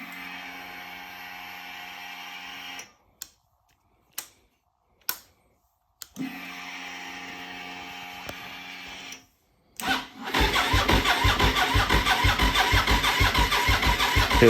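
A cold project motorcycle, run on old mixed fuels, with its fuel pump whirring in two cycles separated by silence, then the engine cranking and catching into a loud, rapid, steady running rhythm.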